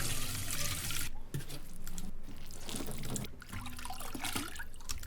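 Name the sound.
water sounds recorded on a phone, played as a sample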